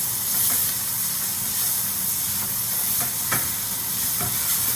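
Spring onion and garlic frying in a pan, a continuous loud sizzle and hiss with faint scraping taps from stirring, no voices.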